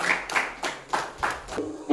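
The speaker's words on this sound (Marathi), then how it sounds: "जोरदार टाळ्या वाजवून टाळ्या" Audience at a village blood donation camp in Sindhudurg claps in several bursts, loud and close, in irregular waves of applause over about two seconds.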